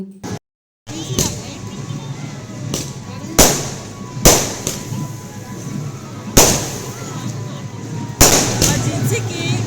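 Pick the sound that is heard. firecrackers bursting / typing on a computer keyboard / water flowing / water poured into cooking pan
firecrackers bursting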